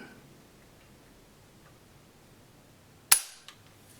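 A Swiss 1896/1911 rifle trigger snaps once, sharp and close, after near silence, followed by a fainter click a moment later.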